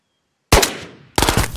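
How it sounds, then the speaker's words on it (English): Enemy gunfire in the video game Ghosts of Tabor: two sharp, loud bursts of shots separated by a short gap, the first decaying slowly and the second ending abruptly, with no talking. "That was him shooting me, right?"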